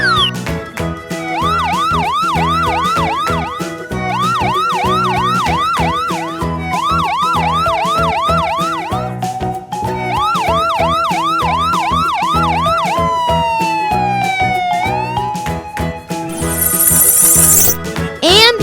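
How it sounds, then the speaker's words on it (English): An ambulance siren wailing in repeated rising and falling sweeps, loud and close, over layered electronic music, ending in a long descending tone. "Ambulance."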